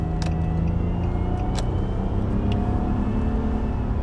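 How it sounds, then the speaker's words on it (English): A truck drives just ahead on the road, heard from inside a following car as a steady, loud engine rumble and road roar with a few brief clicks over it. "Don't start slowing down, you stupid truck."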